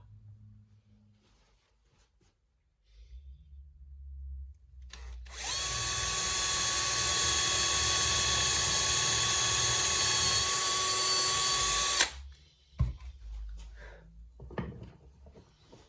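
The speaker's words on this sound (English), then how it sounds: "So we need to drill a wee hole just the front of what the arm would be." A power drill whirs steadily at high speed for several seconds, drilling a small hole in wood, loud and close, then stops abruptly, followed by faint handling noises.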